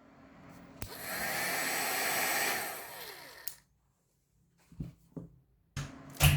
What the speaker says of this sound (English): now we're going to heat that with a heat tool